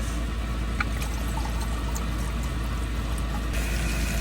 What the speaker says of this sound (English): We just want to add in our garlic and hit it with a splash of red wine.